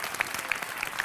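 An audience at a comedy stage magic show claps in brief, faint applause.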